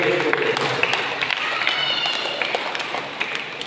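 Congregation clapping hands at a church Mass, a steady, dense patter of many hands lasting a few seconds without spoken words.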